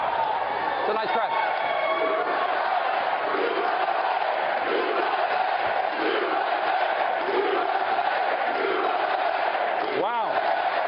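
Crowd at a rally, a dense roar of cheering and shouting that stays loud and constant, with rising whoops and a voice speaking over it.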